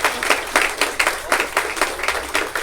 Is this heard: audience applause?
yes